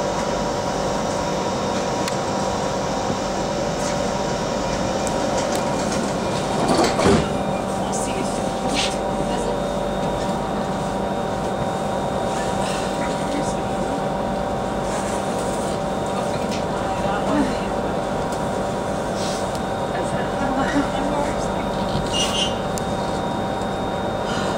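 Steady onboard hum and rumble of an SPT Class 334 electric train running between Motherwell and Scotstounhill, a constant mid-level drone with a brief louder clunk partway through and faint announcement speech over it.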